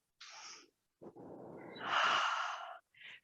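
Breathing during a yoga mat class: a few slow, deliberate breaths close up, a short exhale, then a longer rasping inhale and exhale with a brief snort-like catch, no talk.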